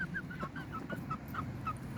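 A rooster of a fighting breed gives a quick series of short, nasal clucking calls in an uneven rhythm against a low background rumble.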